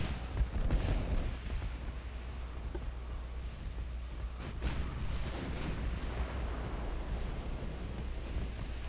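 Warship turret guns firing in Ultimate Admiral: Dreadnoughts, deep distant booms rolling over a steady low rumble of sea and engine noise, a few heavier thuds standing out, with almost no talk.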